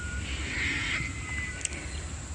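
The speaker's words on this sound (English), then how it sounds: "The screeching as well. That's the cockatoos." Harsh screeching cockatoo calls ring out over a steady outdoor background, a couple of raspy cries close together.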